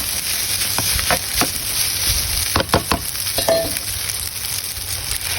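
Rice frying in a pan with dark sauce and seasoning, a steady sizzle under a high hiss, broken by sharp scrapes and clicks as a utensil stirs it, close and fairly loud.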